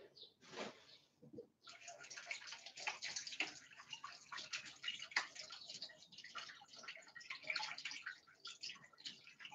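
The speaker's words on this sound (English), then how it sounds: "I'm just going to wash my hands." Running tap water while hands are washed, a steady splashing flow close by after a short pause at the start, fairly quiet throughout.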